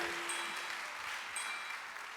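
An audience at a church Father's Day gathering gives a round of applause for Pastor Max after he wins a game, steady and even clapping from a moderately distant crowd throughout.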